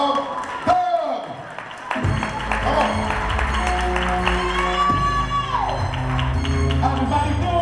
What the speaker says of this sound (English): Clap your hands and let's receive the comedy ministry of Doug.